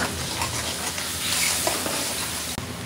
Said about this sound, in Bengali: এখন ভালো করে মশলাটা কষাবো।